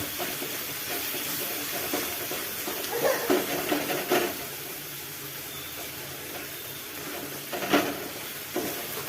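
Small potatoes hiss and sizzle steadily in a pan of cooked-down spiced masala, with a few louder scraping stirs breaking through the continuous frying noise.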